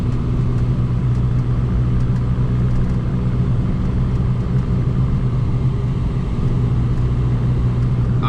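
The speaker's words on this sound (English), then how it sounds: "record footage from inside the car and still get the exhaust sounds" Exhaust of a VW MK6 GTI heard from inside the car while driving, a loud, steady low engine rumble with road noise and no talking.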